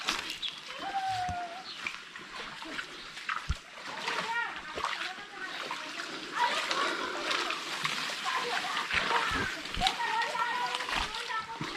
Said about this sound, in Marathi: पाणी इकडे सोडलेलं आहे आता